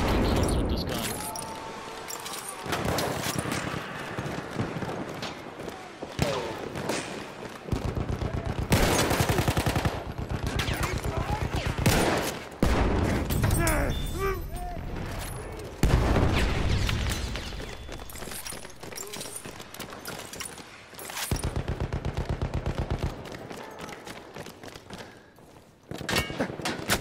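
Battlefield 1 gunfire: repeated bursts of rapid automatic fire, loud and close, broken by short lulls and heavy booms over a long stretch.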